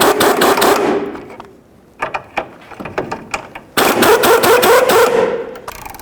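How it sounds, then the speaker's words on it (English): Pneumatic impact wrench hammers at a rusted 14mm sway bar link nut on a 1998-2002 Honda Accord, two loud rattling bursts of a second or more with a few sharp taps and clanks in between. "I'm going to use the air gun and see if I can break these free."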